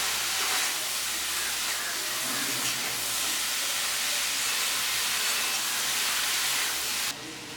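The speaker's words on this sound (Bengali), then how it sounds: "সব কিছুর সঙ্গে মশলাটার সাথে সবজিগুলো ভালো করে ভেজে নিচ্ছি।" Vegetables frying with spices including roasted cumin powder in a pan, a dense steady hiss and sizzle close by that drops away abruptly near the end, with no talking.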